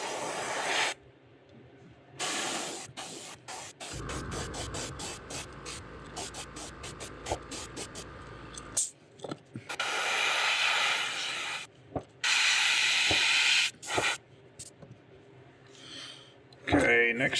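An airbrush sprays black paint onto the front of a yellow fishing lure, letting the overspray drift back. Several short, close hissing bursts stop and start with quiet gaps between them, after a stretch with a voice and a steady background.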